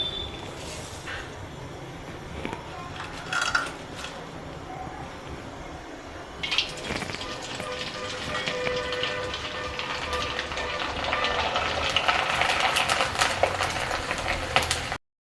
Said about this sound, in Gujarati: તેલ સરસ ગરમ થઈ ગયું છે તો હવે આપણે ગાંઠિયા તળી લેશું